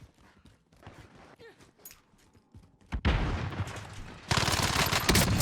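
Rapid, loud automatic gunfire bursts out in a Warzone game match, starting after a quieter stretch and continuing in dense volleys to the end.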